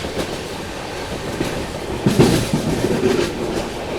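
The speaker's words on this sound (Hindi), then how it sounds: "कोणार्क एक्सप्रेस गई है" The Konark Express rushes past at close range, a loud continuous rumble and rattle of rail cars with clattering wheels and no voices.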